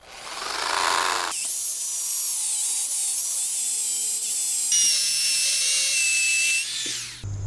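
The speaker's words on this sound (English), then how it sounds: "We're going to use in this little cheap hammer drill. Try to drill it nice and straight." A cheap hammer drill whines steadily at close range, high-pitched, drilling into concrete for several seconds with slight shifts in pitch before stopping.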